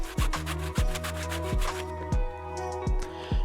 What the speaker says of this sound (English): Next, I turn the beam and continue sawing in the same way on the other surfaces.